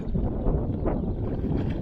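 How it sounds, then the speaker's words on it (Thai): Strong wind buffets the microphone at a reservoir during a fishing trip, a continuous rough low rumble with gusty swells and no clear voices. "ลมมันแรงลมมันแรงลมมันแรง"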